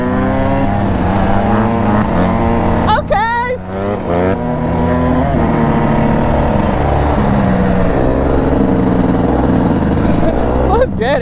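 A 150 four-stroke quad engine runs loud and close with a rough, buzzing drone that varies slightly in pitch, while excited voices shout over it.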